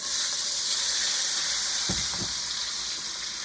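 Chopped onions dropped into hot oil, a steady close sizzling hiss broken by two short thuds and spatters as they hit the pan.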